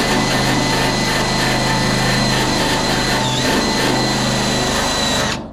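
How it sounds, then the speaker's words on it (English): A drill fitted with a wire wheel scrubs metal parts for a 1969 Charger rear end assembly, giving a steady, loud, close-up whine with an even tone that runs continuously and then cuts off abruptly near the end. "just have a drill and"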